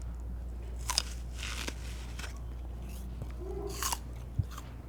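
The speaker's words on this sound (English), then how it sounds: "If you put a Honeycrisp apple in the fridge overnight, just come get like a sound bite of this." A chilled Honeycrisp apple is bitten and chewed close up, giving a few sharp crunches followed by wet, crackly chewing that continues in bursts, with no talking.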